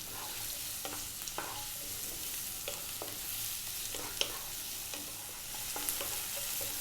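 Carrot stir-frying in a pan over high heat, a steady close hiss and sizzle with light scraping and tapping from stirring at irregular intervals, no voices.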